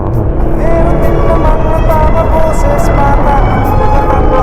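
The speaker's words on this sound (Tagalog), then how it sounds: "Traffic talaga, boy!" Road traffic rumbles close by with a dense, loud, continuous engine and tyre roar as cars pass.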